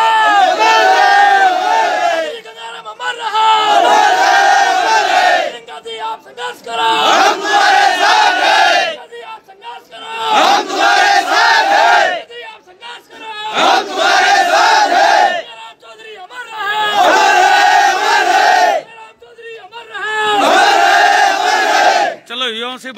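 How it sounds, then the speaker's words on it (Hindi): Large crowd gathered outside Priyanka's house, a loud continuous mass of voices rising and falling in waves with repeated surging shouts and chants, no single speaker standing out. "देख लो सुबह से ही भीड़ आनी शुरू हो गई है"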